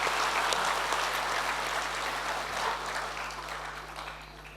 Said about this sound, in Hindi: आइए इन सभी प्रेरणादायी महिलाओं के सम्मान में जोरदार तालियां से उनका स्वागत करें